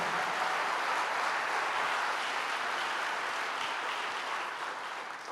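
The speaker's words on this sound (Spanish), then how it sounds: "denle un fuerte aplauso al Rey" Church congregation applauding a pastor's call for praise, a dense sustained wash of clapping from many hands that holds steady and then begins to fade toward the end, with no voices over it.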